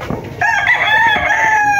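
A rooster lets out a single loud, close crow, rising after a short cluck and holding a long, strained call to the end.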